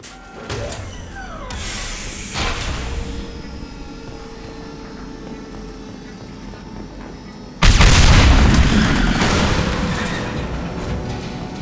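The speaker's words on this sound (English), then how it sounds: "It'll take heavier weapons than that to blow those tanks." Fuel tanks blowing up in the video game Mass Effect Legendary Edition, a sudden heavy blast that cuts in over a droning engine-like rumble and a few earlier thuds, then holds as a loud roaring wash.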